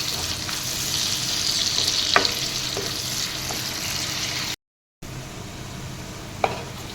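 Onions fry in hot oil with a loud, constant sizzle close up. A spoon stirs them, adding a few sharp scraping clicks, and the sound cuts out for a moment partway through.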